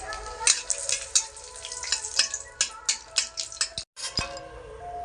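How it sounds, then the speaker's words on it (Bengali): Chillies fry in hot mustard oil in a kadai, crackling and sizzling up close with irregular spitting bursts and a few light metallic clinks, briefly dropping out just before the end. "এখন আমি সরিষার তেল দিয়ে দিচ্ছি। প্রথমে ওল মোলার জন্য কিছু লঙ্কা ভেজে নেব।"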